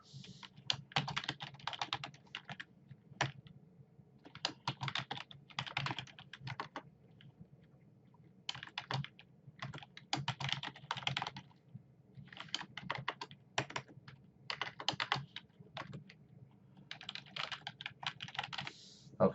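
Close keys clatter on a computer keyboard in irregular bursts of typing with short pauses between, entering a password in a quiet room.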